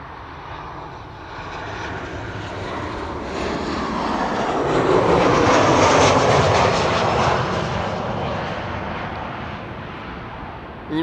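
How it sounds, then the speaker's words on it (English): A jet airliner on approach to runway 36 right at Amsterdam Schiphol Airport, its engine roar swelling steadily as it draws nearer and passes, then easing off, heard alone without talk. "another ITA is coming in to runway 36 right"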